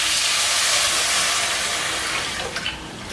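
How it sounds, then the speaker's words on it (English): Homemade broth pours into a hot pan with a loud, steady hissing sizzle that gradually settles and softens toward the end. "When I pour my liquids in, you'll hear it sizzle"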